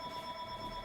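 Mobile phone ringing during a chemistry lecture: a faint, steady electronic ring with sustained pure tones, heard briefly from a distance with no speech.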